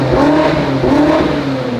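A BMW M5's S63 engine fitted with new downpipes revs loudly and steadily close by, its deep exhaust note rising and falling in smooth waves with no talk over it.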